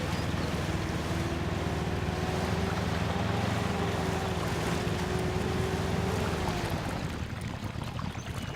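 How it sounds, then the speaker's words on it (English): A steady truck engine hum and low watery bubbling run throughout in the video game Spintires: MudRunner, the truck idling in water, fading slightly toward the end. "if you're sitting in the water and you have the engine going, you can hear the bubbling"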